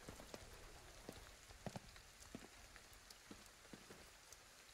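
Rain in the video game Ghostwire: Tokyo falls as a soft, constant hiss, with scattered droplets tapping on surfaces, all quiet and far back.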